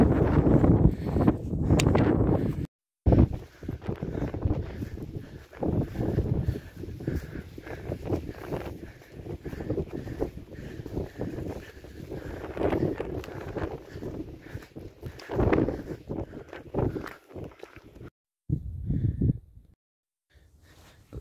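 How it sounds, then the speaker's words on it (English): Heavy gusting wind on snowy Snowdon near the summit, a loud rough buffeting roar against the microphone with footsteps crunching, briefly dropping out before fading. "We've also got some reasonably heavy wind, about 30 miles per hour."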